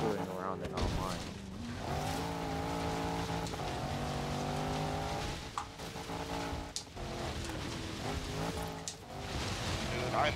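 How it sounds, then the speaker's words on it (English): A stock SRT8 Jeep drifts in Forza Horizon 3, its loud engine droning at high revs and dipping between shifts. Tires squeal and scrub continuously throughout. "I'm drift mastering this Jeep right now"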